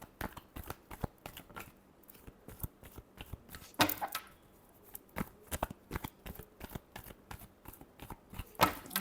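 Tarot cards being shuffled, a rapid run of crisp riffling snaps and flicks in uneven bursts, close and clear with no talking.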